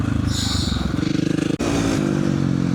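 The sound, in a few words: dirt bike riding in Dubai desert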